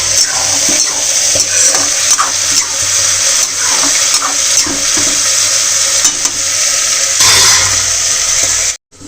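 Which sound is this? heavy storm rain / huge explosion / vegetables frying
vegetables frying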